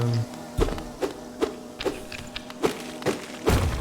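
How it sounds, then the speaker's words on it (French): Steady insect buzz of bees in the Hollow Knight game, with a low hum running throughout and a regular series of dull thuds spaced about half a second apart. "Donc tu te dis mais pourquoi tant d'abeilles? Où est la ruche?"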